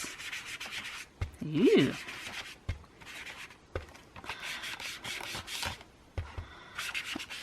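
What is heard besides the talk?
sponge dabbing distress ink onto paper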